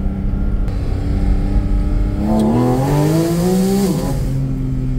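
A Porsche Cayman GT4 RS engine roars loudly, its pitch climbing through a rev and dropping back, heard up close over steady road rumble near a small tunnel.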